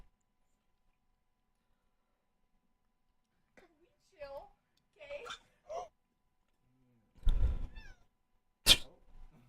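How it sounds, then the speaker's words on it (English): A cat meows a few times in short, separate calls, each a brief rising wail, followed by a louder thump or clatter and a sharp final burst, all close by with silence before. "Let's watch a funny little cat video"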